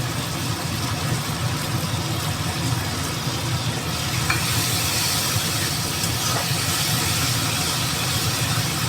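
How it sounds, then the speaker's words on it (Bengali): Whisked sour yogurt, about a spoonful, added to a hot pan and sizzling steadily, a continuous soft frying hiss with faint crackles and no voices. "এবার আমি 1 চামচের মতন টক দই ফেটিয়ে নিয়েছি, সেটা দিই।"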